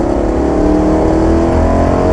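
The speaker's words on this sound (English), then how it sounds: "Nothing quite like a V8" A BMW M3's V8 engine revs hard with a deep, throaty roar, loud and close, its pitch climbing steadily as the throttle opens.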